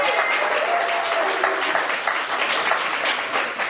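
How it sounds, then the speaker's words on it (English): Sustained audience applause, a dense crowd clapping steadily and loudly throughout with no pauses and no voices. "you have to applaud everybody"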